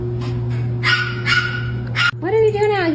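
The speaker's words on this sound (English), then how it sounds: "Who's barking?" A talking pet parrot makes short barking yelps, several sharp bursts followed by a wavering whine, close and loud over a steady background hum.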